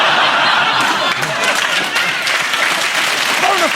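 A comedy panel show studio audience applauds loudly and continuously, dense clapping mixed with laughter and chuckles, while a voice talks faintly underneath.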